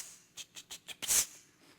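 Sleep spindle brain waves rendered as sound: four short, evenly spaced hissing pulses followed by a louder, longer burst, faint and isolated against quiet background.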